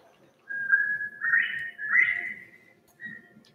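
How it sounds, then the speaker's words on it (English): A quail whistles several clear, sliding calls, rising notes separated by short pauses, then one brief final whistle, alone in quiet surroundings. "The occasional whistle of a quail"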